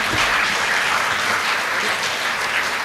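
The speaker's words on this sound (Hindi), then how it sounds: "जोरदार तालियों के साथ बच्चे की हिम्मत अफजाई की जाए" Steady, dense applause from an audience at a school naat competition fills the whole stretch, loud and even without a break, and nobody speaks over it.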